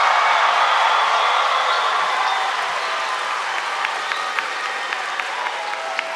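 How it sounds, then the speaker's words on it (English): Graduating high school class of 2021 bursting into a loud crowd round of applause with some cheering, the clapping thinning and fading toward scattered claps near the end. "Give yourself a round of applause."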